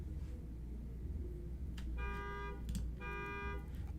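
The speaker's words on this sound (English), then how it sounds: "now my neighbor's car alarm is going off too" A neighbour's car alarm sounds outdoors, its electronic tone blaring in two bursts of about half a second each. It is heard at moderate distance over a steady low background rumble, with no one speaking.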